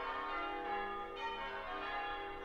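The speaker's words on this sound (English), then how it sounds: "There's church bells." Church bells ring steadily in the distance, their long overlapping tones blending into a sustained, shimmering hum with no talking over them.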